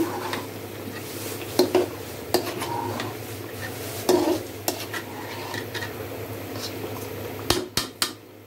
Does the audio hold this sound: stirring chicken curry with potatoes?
yes